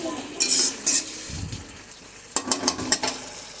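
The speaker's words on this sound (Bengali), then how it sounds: "আবার একটু ভালো করে কষিয়ে নেব" Spice paste is stirred and sautéed in a pan, with a spoon scraping and clinking against the metal in a few short bursts over a low background sizzle.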